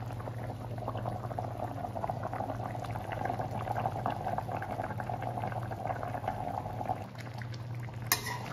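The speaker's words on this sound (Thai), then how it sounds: "เราก็ต้มละไว้เจ้าเอาจนมันเปื่อยๆเลย" Pot of Hang Lay curry, a northern Thai pork curry, bubbling at a steady boil, with a continuous close simmering burble and low hum throughout, no talk.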